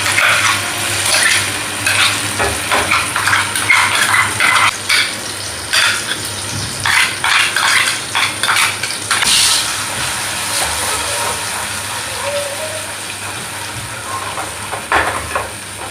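Jackfruit paste fries in ghee in a pan while being stirred: a steady crackling sizzle with bursts of spattering and intermittent scraping strokes from the spoon, close and fairly loud throughout.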